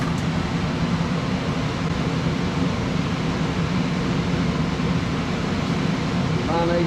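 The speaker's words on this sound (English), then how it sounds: "Here comes the blower." A gas furnace blower starts up after a gas valve and control board replacement, a steady loud whooshing drone of moving air that fills the whole stretch without letting up.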